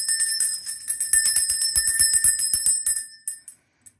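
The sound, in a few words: bell being rung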